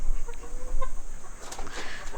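Gramasree chickens cluck on a farm in short soft bursts over a steady outdoor hum, with a slightly louder scratchy stretch near the end.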